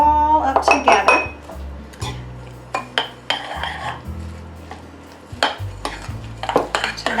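Meatloaf ingredients and chopped onions being mixed in a bowl, with utensils clinking and scraping against the dish in irregular, close knocks and rattles.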